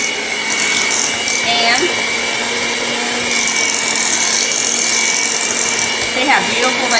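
A kitchen electric mixer whirs steadily through a pot of cooked potatoes for homemade mashed potatoes, a loud, continuous motor hum with slight shifts in pitch as it works, and someone speaks briefly over it.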